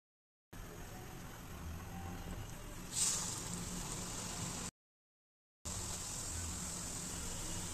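Pitha batter in a mold frying in hot oil, a steady crackling sizzle with a brief brighter burst partway through, broken by a short silence before the frying resumes.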